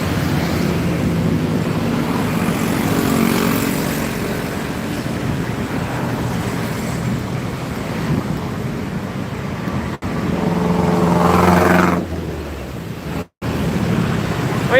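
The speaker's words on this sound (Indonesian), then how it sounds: "Waduh, berisik sekali motornya guys" A concrete mixer truck's engine roars loudly beside a road, a steady heavy rumble under wind-like noise that swells near the end and then drops away.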